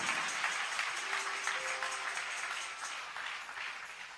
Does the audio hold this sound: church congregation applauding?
yes